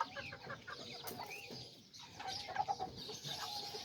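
A little white rooster kept with two hens clucks and calls in short bursts, faint and fairly close, with a few sharper notes near the end.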